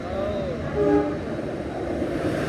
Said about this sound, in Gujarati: રેલગાડી અમારી આવી ગઈ છે ડીઝલ યુ એન્જિન છે